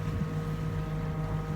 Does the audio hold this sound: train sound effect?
no